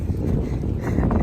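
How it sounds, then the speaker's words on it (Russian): Steady wind buffets the microphone, a continuous low rumbling rush with no voices. "ветер."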